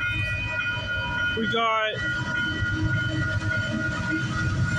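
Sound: train passing, led by locomotive 8038 with a GP38 unit

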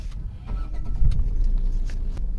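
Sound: Tata Altroz petrol car engine ignition start

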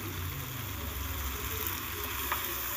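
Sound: ivy gourd (kundru) frying and being stirred in a pan

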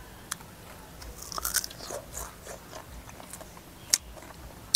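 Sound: biting and chewing crunchy cluster cucumbers

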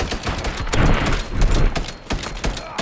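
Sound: gunfire in the video game Warzone

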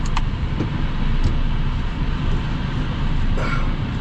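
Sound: truck driving off to hitch a trailer

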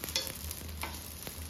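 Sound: idli being stirred in sizzling tadka on tawa

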